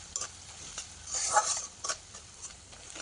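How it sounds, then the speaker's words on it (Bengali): Shrimp, onion and garlic fry in a pan, a gentle sizzle broken by several sharp stirring clinks and scrapes, one louder burst of hissing in the middle, no talk. "পেঁয়াজ, রসুন আর হচ্ছে চিংড়ি মাছ সব সুন্দরভাবে ভেজে নিব।"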